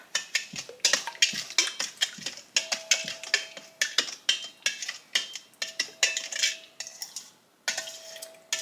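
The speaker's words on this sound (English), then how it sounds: "We're going to stir that up." Brown sugar being stirred into homemade barbecue sauce: a utensil scrapes and clinks against the pot in a steady, rhythmic series of close strokes, with no talking.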